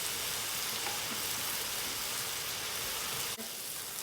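Beef sizzles steadily in a hot pan for shaking beef, a loud continuous hiss and crackle of frying close by, with a faint clink near the end and no talking.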